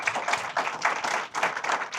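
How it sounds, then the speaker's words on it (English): An audience applauding a panel of speakers at a talk, a short burst of dense close clapping that swells and dips without stopping. "I want to start by giving them a round of applause"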